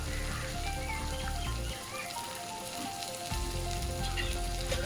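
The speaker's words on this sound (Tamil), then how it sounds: "பத்து சின்ன வெங்காயம் உரித்து அதை கட் பண்ணாமல் அப்படியே முழுசாக சேர்த்துக்கலாம் இதில் இது நல்லா வதங்கணுங்க" Ten whole peeled shallots sauté in a pan for a tomato dish, a steady, close sizzle with a deep low rumble that briefly drops and returns, continuous and without speech.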